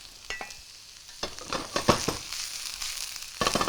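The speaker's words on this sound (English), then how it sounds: "Continue to stir fry that until it acquires this sort of toastiness." Spring onion and peppers stir-fry for chow mein in a hot pan, giving a close, crackling sizzle broken by repeated scraping and tossing strokes that grow busier toward the end. No one speaks.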